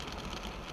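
Rain falling on a car during a rainy-day rideshare drive, a dense, constant patter and hiss filling the space with a low rumble underneath.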